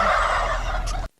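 A turkey gobbles in one loud, rapid warbling burst lasting about a second, close and clear, then cuts off abruptly into silence.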